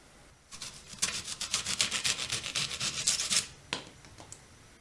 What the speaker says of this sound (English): Yes, it did cut the lemon.